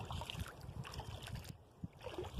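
A kayak glides across a mill pond in Vermont, with faint water sloshes and drips from paddle strokes in short, uneven splashes, quiet and close.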